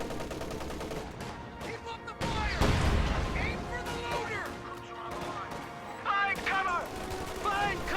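MG34 machine gun firing in a World War II strategy video game, bursts of gunfire mixed with explosions and battle noise, with voice-like unit chatter over the top.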